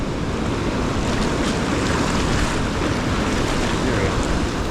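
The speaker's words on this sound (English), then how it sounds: "Those are big waves too. Coming in and going out." Loud, continuous roar of big ocean waves breaking on shore, a steady wash of surf with gusty wind noise on the microphone.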